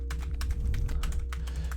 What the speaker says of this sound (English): Let's just get on to the keyboard testing now.